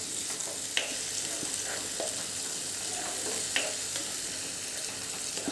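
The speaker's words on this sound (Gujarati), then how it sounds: "આમાંથી તેલ છૂટું પડે ત્યાં સુધી આપણે એને સાંતળવાનું છે" Chili, ginger and garlic paste sautéing in hot oil sizzles steadily and close, with occasional soft stirring scrapes and small pops throughout.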